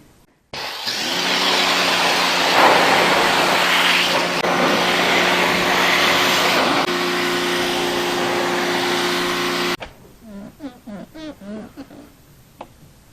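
A TEANDE 3800 PSI, 2.8 GPM electric pressure washer sprays steadily for about nine seconds, a loud harsh rushing hiss with a whining motor hum. It cuts off abruptly, leaving quieter scattered rubbing and handling noises.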